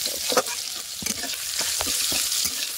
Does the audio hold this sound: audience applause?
no